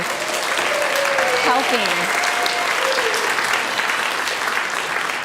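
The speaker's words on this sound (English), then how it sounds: "So a huge round of applause for" A church congregation applauds at length during a Sunday service, steady dense clapping filling the room while a voice speaks over it.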